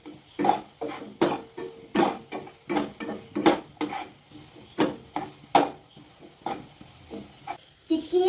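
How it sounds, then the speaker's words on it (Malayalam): Scrambled egg is stirred in a hot pan, a utensil scraping and clinking against the pan in a brisk, regular rhythm of sharp knocks over a faint sizzle, fairly close and loud. "ഇനി നമുക്ക് മുട്ട ഒഴിച്ച് ചിക്കി എടുക്കാം. നല്ലോണം ഇളക്കാം"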